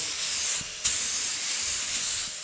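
A paint spray gun hisses steadily and evenly, cutting out for a brief moment before resuming its continuous spray.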